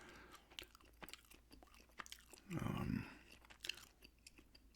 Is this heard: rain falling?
no